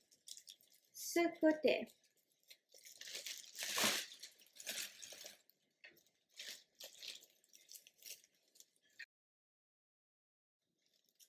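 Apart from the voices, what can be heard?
scissors cutting a large plastic garbage bag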